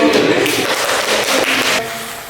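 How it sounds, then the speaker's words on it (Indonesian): Audience applause at a classroom presentation session, a dense steady patter of clapping filling about two seconds, fairly loud and close, then cutting off abruptly. "tepuk tangan dulu"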